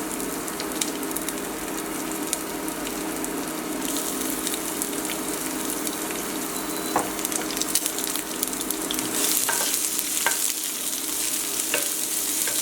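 Chopped onions fry steadily in a pan with cinnamon pieces over medium-low heat, giving a continuous close sizzle with occasional stirring scrapes and crackles throughout.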